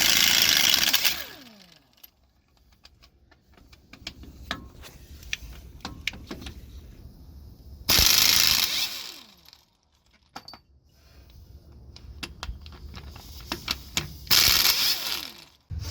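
A socket wrench ratchets on Loctite-locked bolts of a truck pinion yoke on a Freightliner Cascadia, with repeated bursts of clicking pawls separated by quieter pauses and metallic clinks, near and loud, with no speech.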